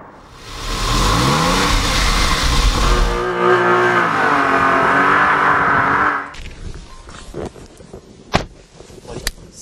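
A Kia Optima with the Premium pack revs hard and accelerates on a road, its engine loud and rising for about six seconds, then it settles into quieter cruising with light cabin knocks.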